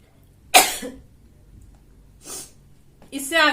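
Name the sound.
sneezing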